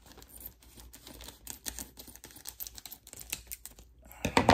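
A sealed plastic bag of comic books bought at Ollie's is cut open, giving quiet clicking and crinkling plastic handling sounds close by, followed by a louder rustle at the end.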